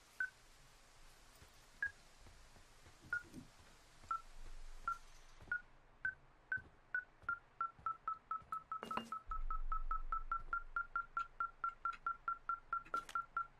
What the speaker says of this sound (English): we needed to follow the beeping device